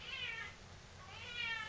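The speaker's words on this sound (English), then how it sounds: "she is a very loud kitten" A kitten meows twice, loud and close, with two drawn-out calls about a second apart over a quiet room.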